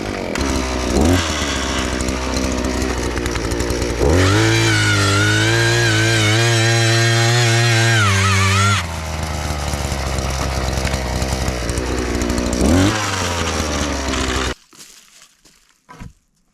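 A powered auger or drill bores a fence-post hole while building a goat barn and fencing, its loud motor droning and rising in pitch under load in several bursts before cutting off near the end.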